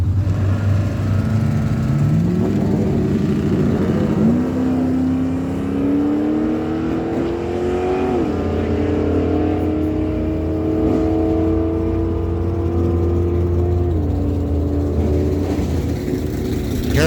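A 1979 Chevy Camaro and a 1970 AMC Hornet running a drag strip pass at Miramichi Dragway, loud engines climbing through gears with rising, shifting drones over a steady low rumble.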